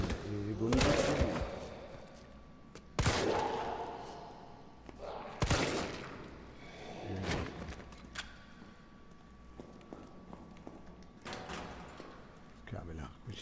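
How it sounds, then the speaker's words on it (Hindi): Gunfire in the Resident Evil 3 remake video game: several loud, sharp shots spaced a couple of seconds apart, each with a ringing tail, with someone talking throughout. "ये गोली चली।"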